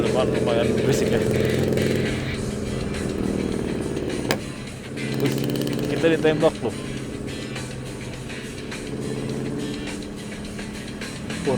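Group of motorcycles on a touring ride passing on a hilly road, with engines droning and rising in waves over a steady car cabin hum while people talk.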